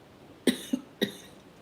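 Two short coughs close to the mic, the first a quick double burst, the second a single harsh cough, then quiet.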